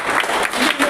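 A brief burst of dense, loud applause from a crowd at a girls' middle school science fair, steady clapping heard close with no talk over it.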